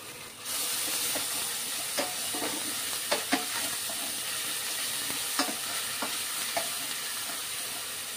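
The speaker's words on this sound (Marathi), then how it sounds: "आता ही एक चमचाभर आलं लसूण आहे त्याची पेस्ट घालायची आहे." Ginger-garlic paste fries in a hot pan for misal pav, a loud steady sizzle and hiss with several sharp spatula scrapes and taps scattered throughout, no voices.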